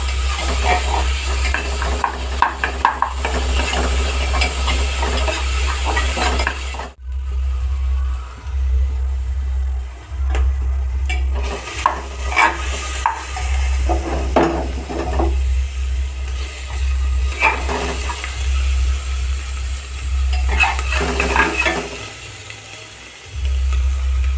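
Onions sizzle and fry steadily in a pan as mutton keema is cooked, with repeated stirring and scraping throughout and a brief break near the middle, close and fairly loud with no talking.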